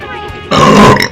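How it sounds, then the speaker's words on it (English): One loud, close burp erupts after a moment of quiet room noise and rumbles for about half a second. "Sorry, I just burped."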